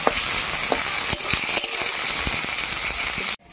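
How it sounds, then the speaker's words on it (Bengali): Onions fry in a pan for a chicken dish, giving a dense close sizzle with scattered crackles and pops that cuts off abruptly at the end. "পেঁয়াজটা একটু ভেজে নিই"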